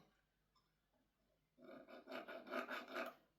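A file rasping burrs off the barrel of an airsoft rifle, a quiet pause followed by a close run of quick, rhythmic scraping strokes.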